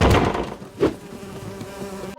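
Swarm of bees in a cartoon, a low droning buzz after a brief thump, continuing steadily at moderate volume.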